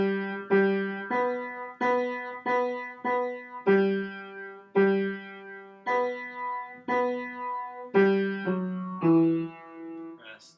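A piano plays the right-hand melody of a song, a steady run of single sustained notes struck one after another at an even, gentle pace, clear and alone.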